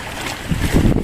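Strong wind roars steadily across the open water of a reservoir at Lam Takhong Dam, buffeting the microphone while choppy waves slap and wash close by.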